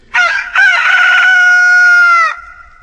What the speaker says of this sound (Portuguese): o galo cantou.